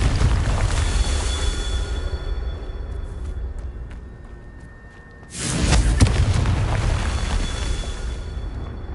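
A Confringo fire spell blasts in Hogwarts Legacy, a deep booming explosion that bursts suddenly after a quieter rumbling stretch, with a rolling low thud and crackle afterward.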